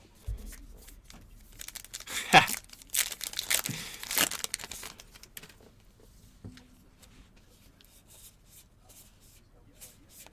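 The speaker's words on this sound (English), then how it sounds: "I don't want to be shuffling through cards all blurry for y'all." Topps Allen & Ginter baseball cards from a 2024 set being handled and shuffled, giving close papery crinkles, slides and rustles that bunch up in the first half and thin out later, with soft voice sounds beneath.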